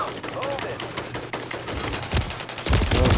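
Rapid automatic gunfire in Call of Duty Warzone ranked Resurgence play crackles in dense bursts, with heavier close shots near the end and a voice talking faintly underneath.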